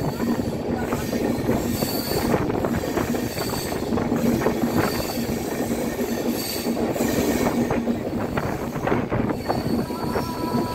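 A train runs through dense forest in the Dooars region of North Bengal. Wheels rumble and squeal over the rails in a steady, loud, continuous roar from nearby, with no talking.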